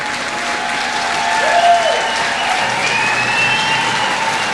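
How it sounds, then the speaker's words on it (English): An audience gives a round of applause for two ladies at the Voices of the North 1997 show, a broad, even wash of clapping that swells slightly midway and holds steady, with a faint tone running underneath. "I want you to help me out with a big round of applause for the two ladies."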